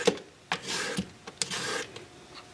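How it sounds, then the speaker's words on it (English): A vegetable peeler draws across a vegetable to cut julienne strips, making several short rasping scrapes in an uneven rhythm, close and fairly clear with no talking. "And of course we can peel ribbons"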